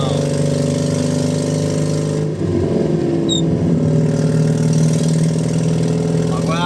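A 1956 Citroën 2CV AZ with an ignition fault runs again after a restart, its small engine humming steadily and loudly up close, briefly dipping before settling back into an even idle, with a short spoken remark near the end.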